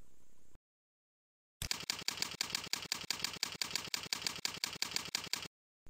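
Rapid, even keystrokes on a computer keyboard while entering a slogan for a website header graphic in Photoshop, a steady run of close, crisp clicks after a brief silence, with no voice.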